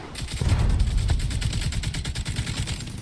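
Gunfire from The Division 2 video game: rapid, dense bursts of automatic shots with booming low impacts, loud and continuous throughout.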